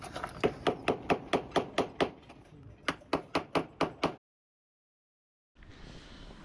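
Sharp rhythmic metal-on-metal hammer blows chiselling out a seacock inside a Rival 41 sailing boat hull, about twenty steady strikes in quick succession, loud and close, then a pause of silence before faint rumbling resumes.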